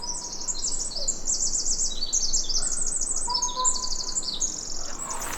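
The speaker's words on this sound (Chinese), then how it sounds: "这个地方有超级多鸟叫" Many birds chirp and trill at once in a coastal woodland setting, overlapping quick tweets and calls fairly close, with a faint lower whistle now and then and no talking.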